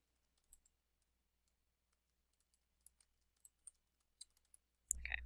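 Soft, scattered clicks of typing on a computer keyboard while a reply is entered into a Google Classroom comment box, faint and sparse, ending in a louder burst of clatter.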